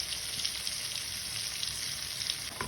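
Garlic and ginger fry in oil that was already used for cooking, part of making a Tamil fish and greens dish. A steady, busy sizzle runs without a break throughout, with no voices.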